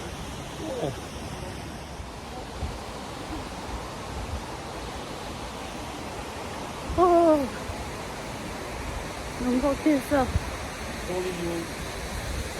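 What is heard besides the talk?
Multnomah Falls waterfall roaring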